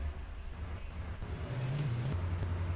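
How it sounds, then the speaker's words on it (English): A taxi car driving in the video game Garry's Mod gives a steady low engine drone that rises and shifts pitch slightly, with a faint hiss over it and no voices. "so I'm using this taxi car"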